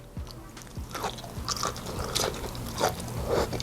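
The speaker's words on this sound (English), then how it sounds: "The vegetables are nice and crunchy" Close-up crunching and chewing of crisp vegetables from a salmon rice bowl, repeated bites snapping in an irregular rhythm, with no talking.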